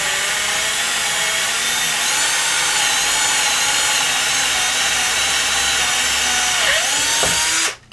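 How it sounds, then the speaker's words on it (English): A power drill bores a hole through cabinet wood for installing a knob, a steady whining drone running close and loud for about seven seconds before cutting off abruptly. "So I'm just going to go ahead and start drilling"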